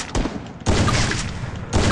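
Loud gunfire in Free Fire, a mobile battle-royale shooter: a brief volley, a short lull, then a sustained roaring burst of shots, cut off and resumed near the end, close and dominant.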